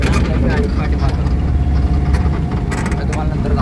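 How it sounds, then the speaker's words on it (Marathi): A vehicle reverses with its engine running, giving a low, steady, close rumble for a few seconds while someone talks over it. "गाडी पाठी मारतो."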